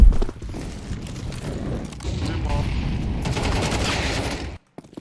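Rapid gunfire from Counter-Strike 2 on the Dust2 map, dense bursts of shots crackling loudly and continuously for several seconds before cutting to silence, with a voice talking over the action.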